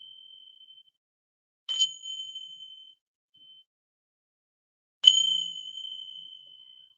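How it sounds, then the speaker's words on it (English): A hand bell rings twice, each a bright, clear strike with a ringing decay, separated by a few seconds of near silence. "And I also have a bell."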